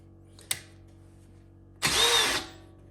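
Pneumatic rivet tool setting a blind rivet into the wall of a 2023 Sprinter van conversion: a short sharp crack, then about a second of loud hissing, dense power-tool noise, close up with no talk.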